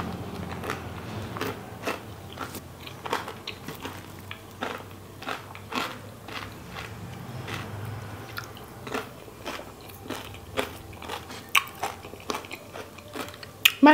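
Someone chews fresh giant oysters eaten with chili paste, making close, wet, crunchy bites in an irregular rhythm with no talking.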